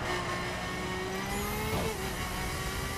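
A racing car in The Crew, a Ferrari F12 or Lamborghini Aventador, at full throttle: a steady, dense engine roar held under load for a few seconds, moderately loud and continuous, with no talking.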